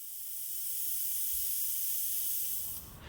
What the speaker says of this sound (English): just testing it with a bit of water, that's spraying perfectly